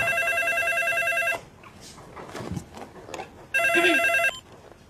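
A household telephone rings in two loud electronic bursts, the first lasting over a second, then a pause with movement and a voice before the ring repeats.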